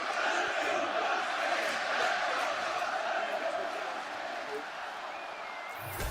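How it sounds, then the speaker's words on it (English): A large arena crowd at a boxing match roars and cheers after a round in a sustained wash of noise, fading slightly toward the end, heard from a distance. "the crowd voicing its appreciation after that round"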